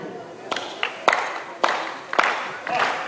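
Show audience clapping together in unison to a steady rhythm, a series of sharp collective claps at regular intervals over a crowd murmur, moderately near.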